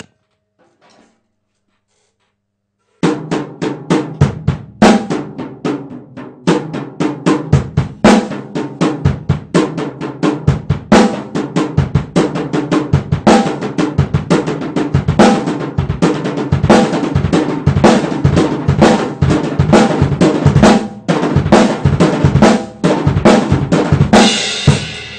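Drum kit playing a back beat fill in which a foot stroke replaces the last double left-hand stroke of a right-left-right-right-left-left sticking, loud and close, a steady run of sharp hits after a brief quiet start.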